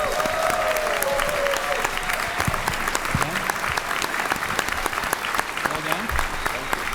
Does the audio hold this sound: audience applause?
yes